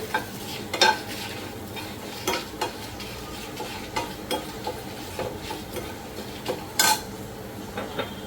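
Curry leaves fry in oil for mutton sukka, a soft continuous sizzle under repeated metal spoon scrapes and clinks against the pan, close up with a sharper knock near the end.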